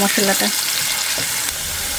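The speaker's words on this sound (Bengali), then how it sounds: "এবার এটাকে ভালো করে ভেজে নেব" Spice paste of turmeric, onion, chilli, garlic, ginger and cumin fries loudly in a pan, a dense steady sizzle with a few brief stirring scrapes near the start.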